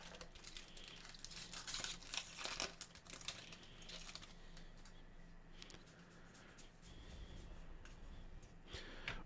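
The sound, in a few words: tearing open Magic the Gathering collector booster pack wrappers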